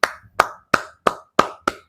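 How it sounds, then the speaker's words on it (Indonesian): Applause for a group presentation in an elementary school classroom: six distinct, fairly loud clapping bursts at a steady beat over about two seconds, with no talking. "Silakan beri tepuk tangannya."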